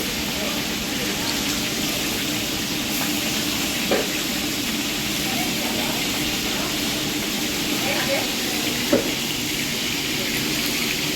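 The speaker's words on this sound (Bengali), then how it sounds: "আগে ইলিশ মাছ ভেজে নেই" Hilsa fish frying in hot oil gives a steady, close hiss and sizzle with faint pops throughout, while people talk quietly over it.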